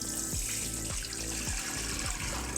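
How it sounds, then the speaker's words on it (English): Three liters of milk poured through a sieve into a pot for homemade yoghurt, a steady close splashing stream with a few rhythmic pulses, no talk. "3 liters of milk into my pot or pan or sufuria"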